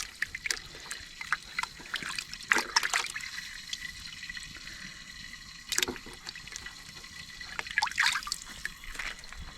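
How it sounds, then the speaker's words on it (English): A potato is hand-washed in water outdoors beside a cooking fire, with soft trickling and splashing in irregular bursts, a few sharper sloshes standing out, and no talk. "we're gonna wash up this potato here"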